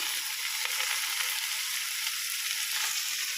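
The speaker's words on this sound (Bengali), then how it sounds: "রসুনটা একটু পুড়বে তারপরে তরকারিটা দিয়ে দেবো বেগুন কাঁচকলা আর গাজরটা মোটামুটি ভাজা হয়ে গেছে" Eggplant, green plantain, carrot and garlic frying in a pan give a steady, close hissing sizzle that holds evenly throughout, with no voices.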